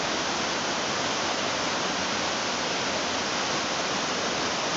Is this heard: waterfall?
yes